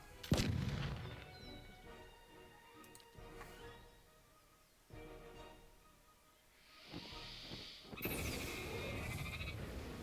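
Gunfire in the fantasy role-playing video game Pillars of Eternity: a sharp report at the start followed by a busy, shifting mix of game sounds, effects and a bright burst near the end, with no speech.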